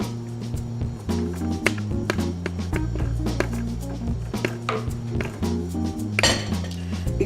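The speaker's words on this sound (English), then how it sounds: "I'm going to ladle it in my little soup bowl." Butternut squash soup ladled into a small soup bowl, with light metallic clinks and taps of the ladle against the dish over steady background music.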